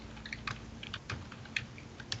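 Quiet keyboard typing: a run of light, irregular key clicks and taps, close and alone, with a low steady hum underneath.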